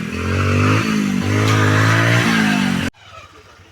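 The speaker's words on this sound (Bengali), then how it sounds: "দেখো বালির উপর দিয়ে বাইক কীভাবে এসছে দেখো" A motorcycle riding over sand near a crowd, its engine loud and close with a steady rising-and-falling drone and gear shifts, then abruptly cut off near the end.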